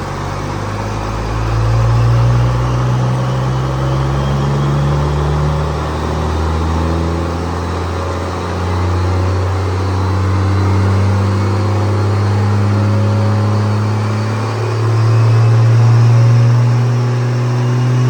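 A Cummins diesel burnout truck fitted with a new intercooler idles and revs loudly and up close. Its deep engine note swells and falls in several rev cycles over a steady rumbling idle, and no one talks over it.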